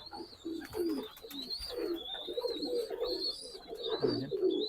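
Pakistani highflyer pigeons cooing steadily in a loft in Khulna, several birds layering soft, throaty coos close by, with a thin high whine running continuously over them.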